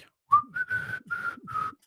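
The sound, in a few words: person whistling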